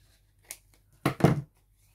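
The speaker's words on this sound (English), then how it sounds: "We don't need that there, so we'll cut that bit off." Scissors cutting a strip of paper backed onto craft card for a decoupage journal, a light snip followed by two close, crisp cuts in quick succession, near and fairly clear in a quiet room.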